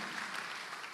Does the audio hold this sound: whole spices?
no